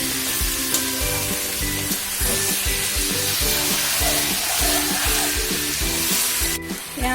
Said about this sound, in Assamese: এয়া মাংসখিনি ফ্ৰাই হৈ আছে ধুনীয়াকৈ